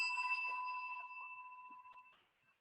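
Small table bell struck once, a clear ringing ding that holds steady and slowly fades, then a faint second tap near the end, quiet and alone.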